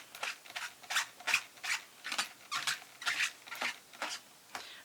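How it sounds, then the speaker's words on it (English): A stamp chamois wipes ink off rubber stamps and a MISTI stamping tool, giving a rhythmic series of about a dozen soft, close rubbing swipes, evenly spaced and fairly quiet. "So I use a stamp chamois to wipe off any ink off the MISTI and off of the stamps"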